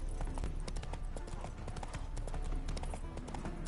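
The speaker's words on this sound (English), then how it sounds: "Spooking my horse." Roach, Geralt's horse in The Witcher 3: Hearts of Stone, trots with a steady, dense clip-clop of hooves over a busy game soundscape, with no distinct whinny standing out.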